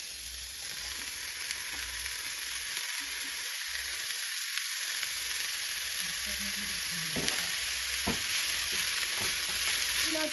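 Onion, tomato and capsicum sizzling in hot vegetable oil in a pan, a loud steady frying crackle with occasional stirring scrapes, no talking.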